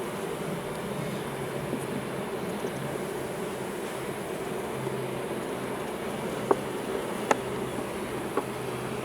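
Bees in a hive buzzing steadily, a dense continuous low drone that stays even throughout, with a few faint clicks near the end.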